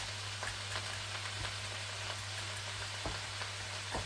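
Garlic sizzles steadily in a non-stick pan over high heat for a vegetarian curry, a close, dense crackling hiss with faint stirring taps, continuous and without speech.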